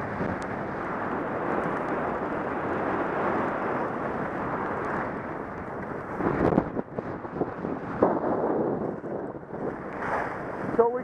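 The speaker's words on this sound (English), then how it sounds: "So we got some wind and track, as you can see." Gusting wind buffets the microphone on a ski mountain trail, a continuous low rumbling roar that grows choppier and uneven near the end, with no talking.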